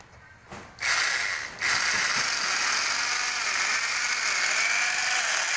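A sack of organic fertilizer mixed with urea is stitched shut by a machine, which gives a steady, loud mechanical whir and rattle. After a short uneven start it runs without a break, and no one talks.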